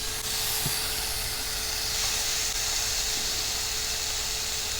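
Pork on a hot Korean-style grill pan hisses with a steady, broad sizzle, close and continuous for several seconds with no talking.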